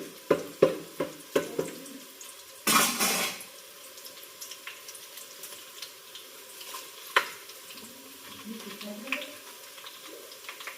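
Oil heating in a home kitchen pan after onion was pushed aside, giving a soft steady sizzle with scattered sharp clicks and pops, one louder burst of spitting, and faint clatter toward the end.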